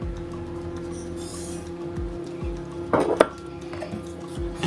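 Milk, plant milk, oil and sugar being stirred in a medium-sized bowl, with a soft continuous scraping and a few clinks of the utensil against the bowl, close by and alone.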